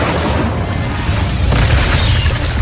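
A Confringo spell blasts in the Hogwarts Legacy video game, a loud, sustained booming explosion with deep rumbling that fills the whole stretch without letting up.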